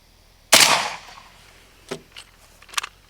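A rifle fires a single 7N6 5.45x39 round into an AR500 steel plate, giving one loud, sharp crack with a trailing echo, followed by a few faint small knocks.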